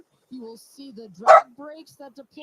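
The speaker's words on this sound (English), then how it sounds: "Yeah, I gotta excuse my dogs." A few quick dog barks burst out briefly, loud and close, in the middle of steady talk about a rocket landing.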